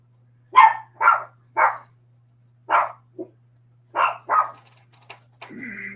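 A small dog, a white Yorkie-poo or a blue Hula mix, barks in a run of sharp, close barks, about eight in irregular bursts, ending with a higher whining or yipping sound.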